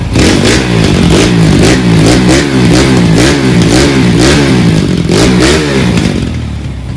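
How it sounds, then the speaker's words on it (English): A loud 2021 KTM RXF 150 Freeride dirt bike engine revs up and down in repeated rising and falling bursts, close by, with some mechanical clatter. "Can you give it a couple revs, Sean, for me?"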